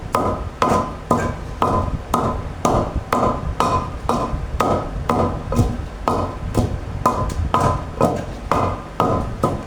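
Chutney ingredients pounded by hand in a brisk, steady rhythm of roughly twenty solid, close thuds, each strike loud and evenly spaced, with no talking.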